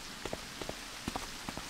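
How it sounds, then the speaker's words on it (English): Rain falls in the stealth game Ghost Thief, a constant soft hiss with a few distinct nearby drops pattering on a surface, short and moderately quiet with no speech. "I do like the rain and the fog"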